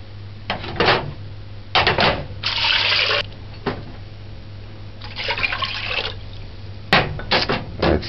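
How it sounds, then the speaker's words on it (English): Tap water runs into a cooking pot for Jamaican cow cod soup in several separate bursts of pouring and splashing, with short quiet gaps between them and no talking. "Add 6 cups of water."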